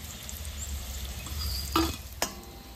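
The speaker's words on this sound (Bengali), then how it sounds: "এবার আমি ঘিয়ে করলাটাও আমি ভেজে নিচ্ছি।" Bitter gourd fries in ghee in a pan, an even, crackling sizzle with two sharp utensil clacks toward the end, close and without talk.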